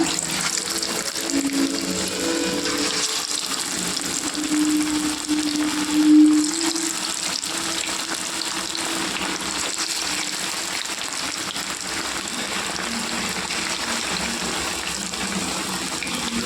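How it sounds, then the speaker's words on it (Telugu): Chicken leg pieces deep frying restaurant style in hot oil give a steady, loud, bubbling hiss that runs unbroken throughout, with no voices. "చూడండి, ఆయిల్ బాగా హీట్ అయ్యిందండి. ఇప్పుడు వేసుకోవాలండి ఒక ముక్క."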